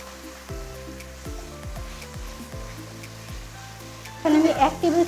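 Shredded chicken is tipped into a pan holding a little stock, producing a moderate close sizzle and bubbling hiss, with a louder burst of spattering near the end.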